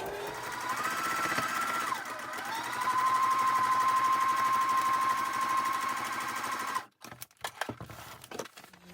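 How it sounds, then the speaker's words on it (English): A sewing machine stitches a foundation paper pieced quilt block, running in a steady fast whirring hum for several seconds before stopping, followed by a few short bursts of stitching and handling noises. "put the needle down and sew right on that line, on that sewing line"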